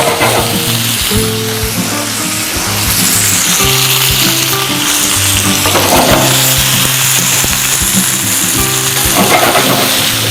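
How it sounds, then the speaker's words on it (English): Cherry tomatoes tossed with herbs sizzle steadily in a hot frying pan, a continuous close crackle lasting throughout, with background music underneath. "Throw our cherry tomatoes in."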